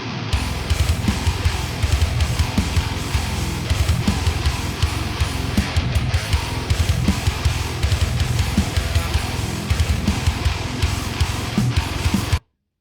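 Tightly edited electric guitar takes playing together in a dense, continuous full-band texture, loud and steady throughout with no talking, ending abruptly.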